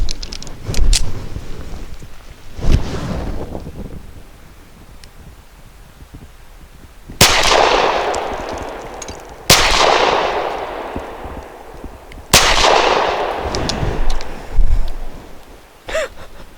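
A KelTec PF-9 micro pistol fires Inceptor 65 grain rounds outdoors, several sharp reports spaced a few seconds apart, each with a ringing decay, alongside fainter clicks and handling noise.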